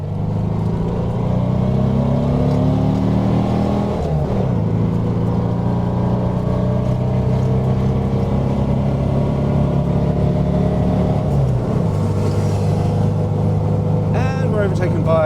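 A 1965 VW Beetle driving on the Castle Combe race circuit, its air-cooled engine droning steadily close up with rising and falling revs through gear changes, under faint talk.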